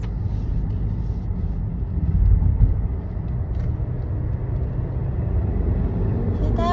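A truck rolls past on the road with a steady loud rumble that swells briefly in the middle and then continues evenly, with no talking over it.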